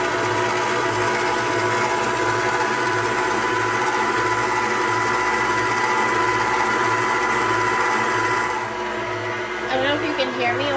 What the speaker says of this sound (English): I don't know if you can hear me over the mixer